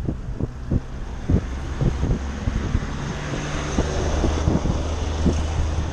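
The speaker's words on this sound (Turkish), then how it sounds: "Biraz rüzgar var ama." Gusting wind buffets the microphone outdoors beside a 2021 Mosso Cavalier Claris road bike, a steady rushing roar with repeated low thumps and bursts throughout.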